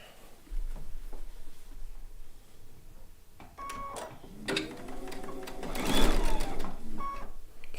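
A sewing machine sews quilt fabric, starting in short bursts and then running in a steadier, louder stretch toward the end, fairly close with light handling noises.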